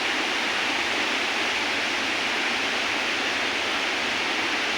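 Water of a waterfall pours down in a steady, loud, unbroken hiss and roar, with no voices over it.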